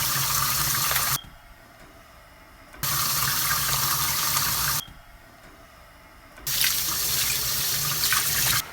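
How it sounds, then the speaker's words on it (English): Tap water runs into a kitchen sink during hand washing in three loud bursts, switching on and off between quieter gaps, with no talking. "I'm gonna go wash my hands."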